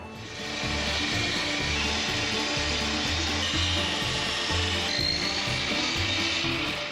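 A radial saw cuts reclaimed pallet wood planks to length, a steady, loud motor whine with a rhythmic low thumping that runs continuously after a brief start.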